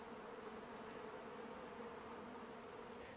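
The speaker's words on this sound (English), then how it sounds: "So I'm gonna grab a worker bee here." A honey bee worker buzzes at an apiary, a steady, faint, continuous drone with no other sounds.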